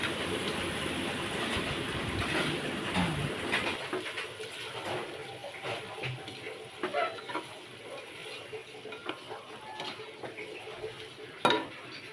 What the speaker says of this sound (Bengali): এখন আমি চাল দিয়ে ভালো করে কষিয়ে নেব চাল একটু ভাজা ভাজা করে নেব